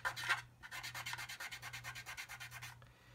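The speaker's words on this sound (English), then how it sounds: "Really pushing that cotton bud into the corner." A cotton bud is rubbed hard into the rivet detail of a 1/32 Spitfire model kit to clear out surfacer, making rapid rhythmic scratchy strokes, close and fairly quiet, with no voices.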